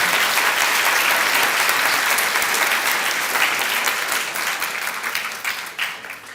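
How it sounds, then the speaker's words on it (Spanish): Strong applause from a university conference audience, dense and continuous clapping that holds steady and then thins out toward the end. "un fuerte aplauso"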